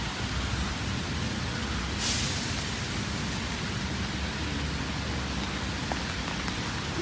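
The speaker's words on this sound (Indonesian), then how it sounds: "Suasana kalau hujan di taman" Steady rain falls in a park in Denizli, Türkiye, in spring, a dense continuous hiss of drops on surfaces that stays even throughout, with one brief brighter splash or gust near the start.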